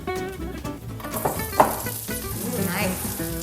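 Wild garlic sizzles in olive oil in a soup pot. The crackling is bright and close, and a few voices chatter over it with clattering near the middle.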